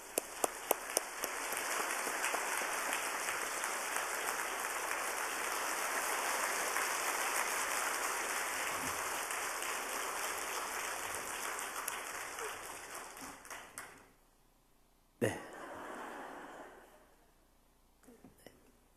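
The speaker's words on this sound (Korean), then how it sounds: "나오실 때 우리 뜨거운 박수로 환영하겠습니다" Warm applause from a church congregation at a Wednesday worship service, a dense, loud wash of many hands clapping steadily for about fourteen seconds before fading, then a sharp single burst and a quieter tail.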